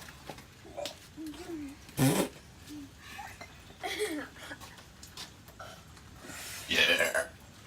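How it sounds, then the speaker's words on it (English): A child gives a few burps, each a short rough gulp, close to the mic, separated by quiet gaps and soft shuffling noises. "Now you should burp."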